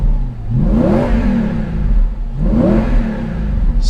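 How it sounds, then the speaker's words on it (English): A 2014 Audi R8 V10 engine with its exhaust valves closed revs twice in quick succession. Each rev is a loud, close rising-and-falling sweep over a rumbling idle. "this is with the valves closed, so the exhaust is quieter"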